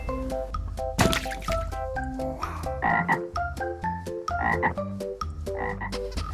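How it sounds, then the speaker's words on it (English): A green frog croaks in a series of short, repeated calls, set against a bright, plinking musical backing that plays throughout. "Green frog."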